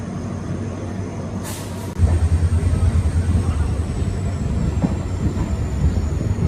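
A Tirunelveli–Chennai summer special passenger express rolls along with a steady low rumble of wheels and carriage, louder after a brief hiss, filling the whole stretch without talk.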